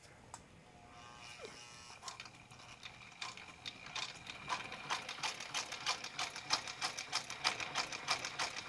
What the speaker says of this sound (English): it sews leather fine